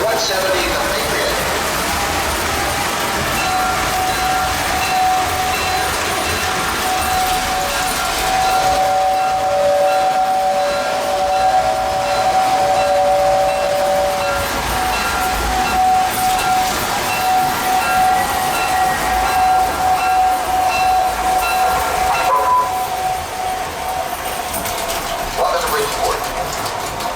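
Model train number 170, the Patriot, running on a layout track, a steady loud rolling hum throughout with a sustained tonal whistle-like tone sounding for several seconds in the middle.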